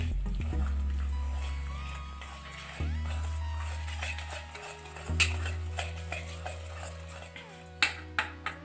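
A spoon stirs suji chilla batter made with semolina and buttermilk in a bowl, giving soft scraping over a steady low background hum, with a few sharper clinks against the bowl toward the end.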